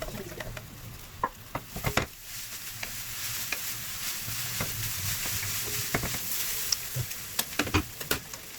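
Shredded cabbage softens in hot sesame oil in a pan for fried egg noodles, with a steady close sizzle broken by sharp scraping stir strokes, no voices.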